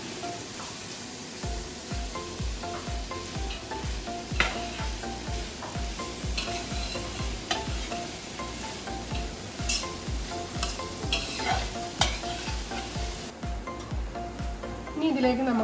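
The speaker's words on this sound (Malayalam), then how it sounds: "ഇവിടെ ഇപ്പൊ ഞാൻ ഈ 1 കിലോ ഉള്ളിയാണ് വഴറ്റിയത്" A kilogram of onions sizzles and fries in a pan while being stirred for vegetable biryani, with a steady crackle and repeated scraping strokes throughout and occasional clinks of the utensil.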